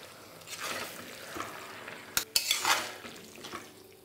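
Spoon stirring a mixed winter-vegetable Bengali curry in a pan, soft scraping strokes with a couple of sharp clinks against the metal, fairly quiet and without talk.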